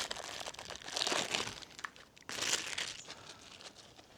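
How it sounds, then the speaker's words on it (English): A Rocky Creek MotoPressor Pocket Pump V2 mini air compressor is pulled from its plastic packaging: two close bursts of crinkling plastic, each fading into softer rustling, in otherwise quiet surroundings. "we'll pull it out of its plastic packaging"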